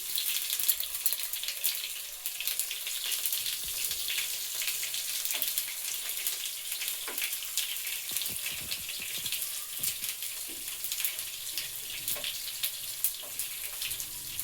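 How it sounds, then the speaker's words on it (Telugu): Garlic cloves frying in hot oil with mustard seeds and cumin for a tomato chutney tempering, a steady fine sizzle and crackle running throughout with scattered small pops, close and alone. "ఆవాలు, జీలకర్ర చిటపట్లు ఆడిన తర్వాత వెల్లుల్లి రెబ్బలు, నల్లగొట్టుకున్న వెల్లుల్లి రెబ్బలు"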